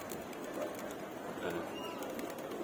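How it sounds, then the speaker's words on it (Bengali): Pigeons at a loft coo faintly amid a busy background while someone talks over them at low volume. "আমাদের এখানে একটা ফাটা কবুতর আছে,"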